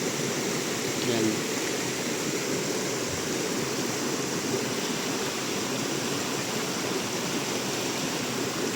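Rushing river water roars steadily and close, a broad continuous wash with no voices standing out.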